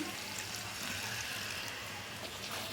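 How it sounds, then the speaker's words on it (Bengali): Water is poured into a pan of soybean and potato curry, a steady rushing, gurgling stream that stays continuous throughout, close with no talk. "একটু পানি দিচ্ছি"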